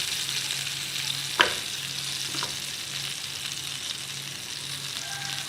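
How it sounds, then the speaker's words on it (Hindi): Khasta sabz kababs fry in a little oil in a pan, a steady close hiss of sizzling with one sharp clink of a utensil and a faint hum underneath, no voices. "थोड़े थोड़ा ऑयल में आपने इसको फ्राई करना है।"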